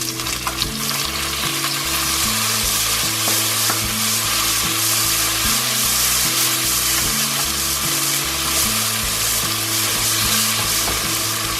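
Tomatoes hitting browned onions in a hot pan bring a loud, dense sizzle that runs without a break and stays close, with no voices over it.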